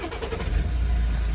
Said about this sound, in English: so the next thing is start the car up